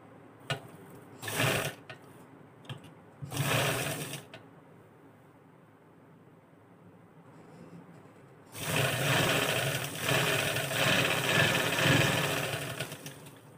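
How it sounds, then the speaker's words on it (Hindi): Sewing machine stitching a seam on a shalwar, with a couple of short whirring bursts followed by a long, steady, loud run of rapid stitching, close up and without talk. "और अब हम इसकी म्यानी की सबसे पहले सिलाई लगाएंगे।"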